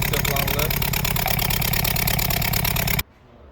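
A Changan A05 engine with a P0304 cylinder misfire fault cranks on its starter during a compression test. The even, rapid chugging pulses run loud and close for about three seconds, then stop abruptly into quiet.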